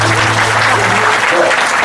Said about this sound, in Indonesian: semuanya tepuk tangan ya